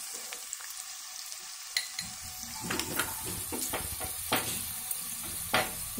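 Vermicelli with turmeric and salt stirred in a pan, a soft sizzle rising after a quiet start, with several scraping and clinking spatula strokes against the metal, close up with no voices.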